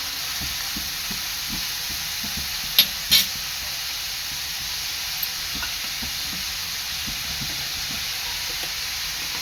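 Chopped onion frying in a pan for a Marathi mixed vegetable dish, a steady soft sizzle and hiss with a few faint stirring taps and two brief clinks, no talking.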